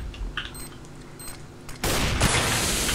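Gunfire in the video game CS:GO: a rapid burst of shots bursts in partway through, loud and dense, after a quieter stretch of faint game ambience and small clicks.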